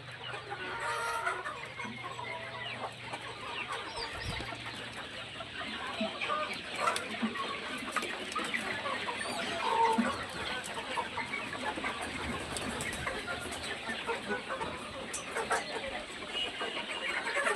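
Kadaknath rooster and hens, with other young poultry, clucking in a hot outdoor coop, a continuous mix of soft clucks and chatter at moderate distance.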